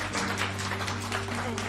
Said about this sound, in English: A round of applause for Angel.